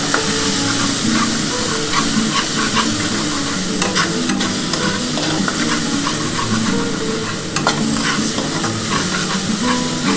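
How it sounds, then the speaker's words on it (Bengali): Masala with Kashmiri chilli powder is stir-fried in a pan for a katla fish curry with curry leaves, a loud, close sizzle with repeated scraping and clacking strokes of a spatula, and no one talking. "এবার ভালো করে একটুখানি কষাতে হবে।"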